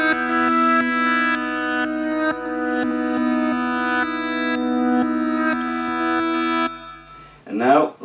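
A looped guitar phrase from an Electro-Harmonix 45000 multi-track looper plays backwards, notes swelling in and cutting off abruptly in a steady repeating pattern, then fading out into a brief warbling tail.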